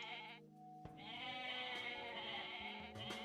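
In the Age of Mythology video game, goats bleat in a nasal, wavering call that starts briefly, breaks off, then resumes as a long bleat and a short one at the end.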